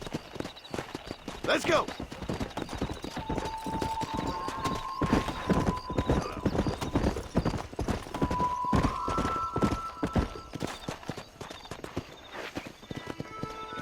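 Horse hooves galloping in the Red Dead Redemption video game: a fast, steady clip-clop rhythm that runs throughout, with voices talking over it and a brief whinny.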